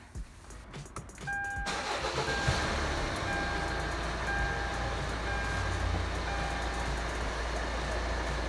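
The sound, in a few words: car engine started and running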